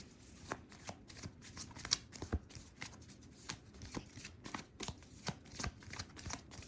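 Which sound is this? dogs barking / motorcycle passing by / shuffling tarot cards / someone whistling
shuffling tarot cards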